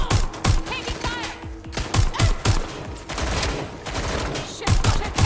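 In the video game Watch Dogs: Legion, gunfire breaks out in loud, rapid bursts of automatic shots and sharp single cracks, with short pauses between volleys and hectic action all around.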